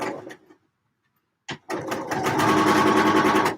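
A sewing machine stitches a final side seam on a garment mock-up. After a brief clunk and pause it starts up and runs at a steady, fast, whirring rhythm, loud and close.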